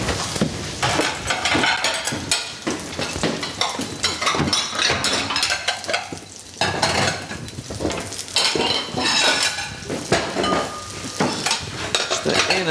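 Dishes and cutlery clatter and scrape continuously while being washed, with dense metallic clinks and knocks throughout and a brief lull partway through.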